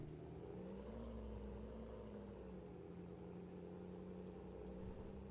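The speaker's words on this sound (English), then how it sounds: "Because it has a pretty quiet engine, I think." A quiet vehicle engine hums as it drives in the tank game GHPC, a steady low drone with a slowly shifting pitch, held at an even level throughout with no talking.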